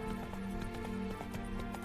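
Hooves of Roach, a horse in The Witcher 3, clopping at a steady pace as a soft, fairly quiet rhythmic series of thuds over a low background drone.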